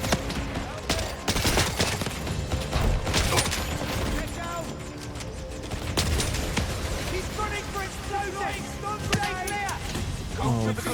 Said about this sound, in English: Why am I using a shotgun from this range?